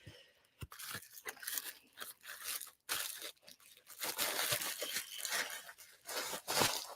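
A small plastic bag crinkles and crackles in bursts of dry rustling as a little nativity figurine is slipped back inside it, close up and fairly quiet, with no talking.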